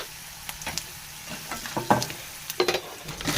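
Raisins being fried in a pan at home, giving soft sizzling with intermittent stirring scrapes and clinks close by, no talking.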